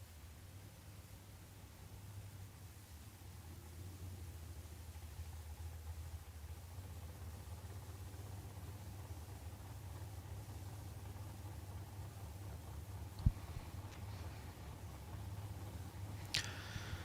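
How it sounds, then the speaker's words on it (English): A dragster at a drag racing event rumbles as it idles or coasts somewhere far off, a steady low drone under faint background noise, with one brief sharp click near the end. "You can hear the rumbling engine of the dragster as it idles or coasts now."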